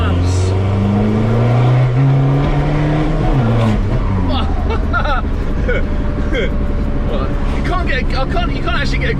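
An MK1 VW Caddy with a swapped PD diesel engine and straight-pipe exhaust drives loud and close, its engine note rising through the gears with a clear shift. People talk over the engine noise.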